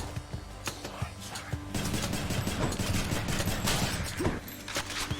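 Rail gun firing in the video game Hades, dense rapid shots and impact bursts layered over game effects and music, busy and continuous with a sharper flurry in the later half.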